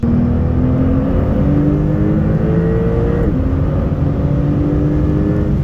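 An air-cooled Porsche 911 Turbo S pulls hard under acceleration, its engine note climbing steadily with a brief dip at a gear change before rising again, loud and continuous with no talking.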